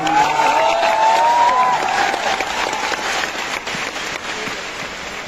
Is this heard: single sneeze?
no